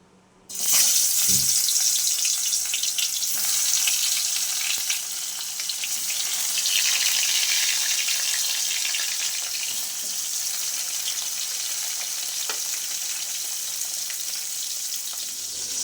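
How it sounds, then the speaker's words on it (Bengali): Hilsa fish rubbed with salt and turmeric hits hot oil in a village kitchen, setting off a sudden burst of sizzling that settles into a loud, steady crackle. "নুন হলুদ মাখিয়ে নিয়েছি, এই মাছটা এবার ভাজতে শুরু করব"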